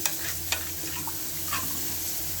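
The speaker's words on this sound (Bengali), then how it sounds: "ভালো করে মিশিয়ে নিচ্ছি ভালো করে মিশিয়ে হয়ে গেছে" Chicken pieces stirred and mixed with water, turmeric and spices in a pan, with a few scraping spoon clicks over a steady low sizzle, close and alone with no talk.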